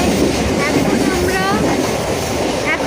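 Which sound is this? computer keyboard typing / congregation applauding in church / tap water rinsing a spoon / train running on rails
train running on rails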